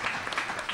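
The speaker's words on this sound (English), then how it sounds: "maybe do a little applause." A short round of audience clapping closes a roundtable discussion at a harvest night gathering, steady and moderately loud for under a second, with no one talking over it.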